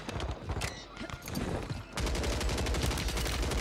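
DG submachine gun firing in a video game shooter, with rapid bursts of dense, loud automatic gunfire that grow heavier and more continuous in the second half.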